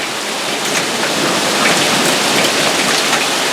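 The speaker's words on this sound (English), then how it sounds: "That is hail, folks. It's not even a monsoon. It's cold, cold rain, and it's hail." Cold rain mixed with hail pours down steadily and loudly, a dense continuous hiss of falling drops and pellets with no pauses and no voices.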